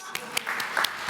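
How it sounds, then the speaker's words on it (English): Brief, faint applause from a game developers' conference audience during a talk, with a few distinct claps standing out from a soft wash of clapping. "A round of applause, please."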